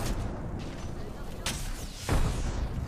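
Grenade blast in the Apex Legends battle royale game, a loud broadband boom around the two-second mark rising over a busy bed of gunfire and game noise, with players talking throughout.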